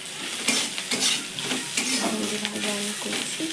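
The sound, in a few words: frying okra in a pan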